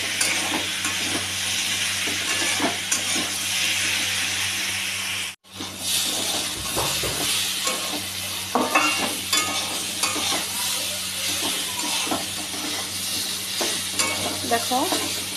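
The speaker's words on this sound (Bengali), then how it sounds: "আমি এটাকে আরও ভালো করে নাড়বো।" Potatoes and pumpkin fry in a pan for a vegetarian curry, with a steady sizzle and hiss as a spoon stirs through them in repeated scraping strokes, close and loud, broken by one brief pause.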